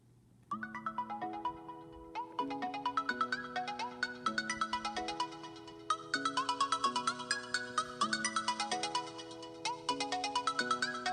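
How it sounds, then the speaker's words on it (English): A custom iPhone ringtone plays alone and clearly: a bright, repeating synthesized melody over a steady bass pattern. It runs continuously and grows fuller after the first half-second. "now I'm gonna show you my ringtone"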